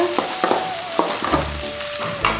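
Onion and garlic frying in a pan for fish curry, a loud close sizzle with scattered stirring scrapes and clicks, continuous and unaccompanied by talk.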